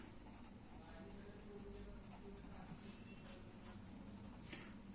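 Pen or marker scratching across paper or a board during an accounting lesson, faint repeated strokes in a steady rhythm under low room noise.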